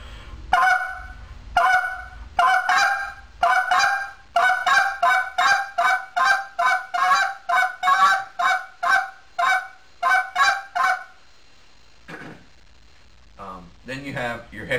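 A rapid series of short, clipped quick spit notes on a goose call, repeated in steady bursts, loud and close, followed by a brief pause and a few softer calls.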